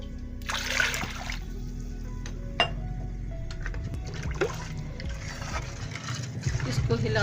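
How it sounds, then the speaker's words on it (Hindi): Half a litre of water splashes into a pot of yogurt mixture for kadhi in short pouring bursts, with a sharp clink and a nearby voice over a low background hum. "½ लीटर पानी डाल रही हूँ।"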